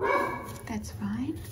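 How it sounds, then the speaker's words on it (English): Dogs bark in a home, a neighbor's dog setting off a pet dog, in a few close, sharp barks mixed with a person talking over them. "When the neighbor's dog barks, my dog has to chime in too."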